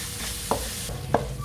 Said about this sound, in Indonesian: Daun-daunannya dulu digoreng. Setelah mengeluarkan aroma harum baru dimasukkan bumbu sambelnya.